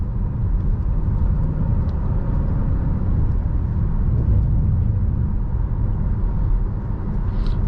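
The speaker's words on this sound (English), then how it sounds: "Rides pretty well going over these rough patches right here." Cabin rumble of a 2019 Nissan Rogue SL driving over rough road patches, a steady low road and engine drone with faint bumps, heard from inside the car.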